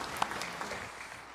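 A church congregation at a Sunday worship service in Daegu applauds softly, a steady wash of distant, low-level clapping with no talking over it.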